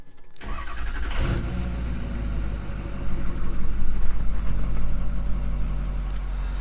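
A 6.0 Powerstroke diesel truck engine cranks briefly and catches, then settles into a steady low idle with a slight rise in revs, close by and continuous.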